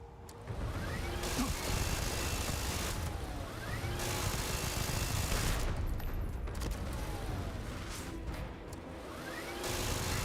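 Rapid automatic gunfire in a video game, continuous rattling bursts with brief pauses, loud and close for nearly the whole stretch, no talking.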